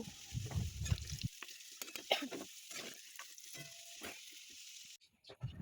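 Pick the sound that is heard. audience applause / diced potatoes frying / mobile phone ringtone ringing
diced potatoes frying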